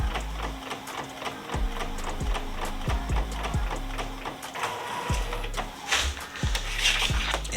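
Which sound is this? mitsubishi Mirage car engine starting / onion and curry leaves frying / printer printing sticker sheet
printer printing sticker sheet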